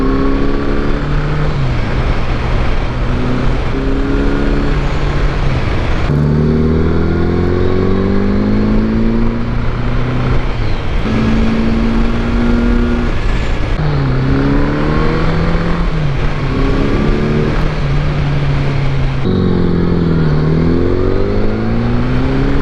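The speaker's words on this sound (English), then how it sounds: "Man, it sounds so good when you get on the gas on this bike." A 1981 Honda GL1100 motorcycle engine revs hard and repeatedly, loud and close, its pitch climbing and falling through several throttle pulls over a continuous idle rumble, with no voices.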